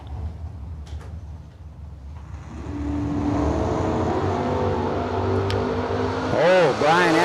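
At a drag racing event a Chevrolet Nova and a Camaro rumble on the line, then engine roar swells and sustains loudly as they launch, with a commentator's voice early on.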